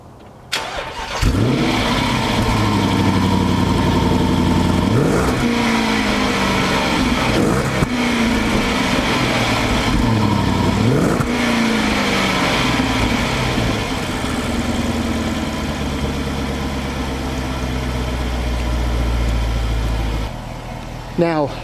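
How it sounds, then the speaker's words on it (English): Jaguar XF Portfolio with a 5.0L V8 fires up with a short cranking burst and a deep growl, then settles into a steady, close, rumbling idle with a few throttle blips early on while someone talks over it. "Now, the vehicle has a nice growl upon startup."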